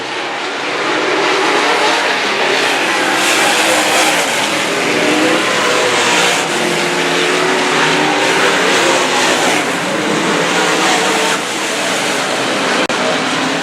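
A race car engine roars at Heartland Park Topeka Raceway, a loud, sustained, near, buzzing drone that stays steady for more than ten seconds.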